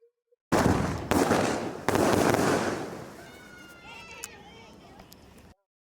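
Firecrackers left over from Dev Diwali burst in a few loud sharp cracks, followed by crackling and whistling fizz that fades away; people talk in between.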